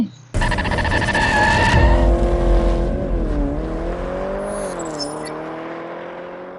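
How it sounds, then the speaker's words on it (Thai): A car starts moving with a loud engine roar and rising rev, then settles into a steady drive along the road with a droning hum and faint whine; no speech. "เราก็อยู่กันบนรถเป็นที่เรียบร้อยแล้วนะครับผมซึ่งเดี๋ยวเราจะขับรถไปเรื่อย"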